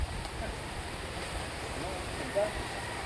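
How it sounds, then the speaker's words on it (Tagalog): Strong typhoon wind blows as a steady, loud broadband roar throughout, with a brief louder gust near the end and no speech. "Uga grabe nga hangin."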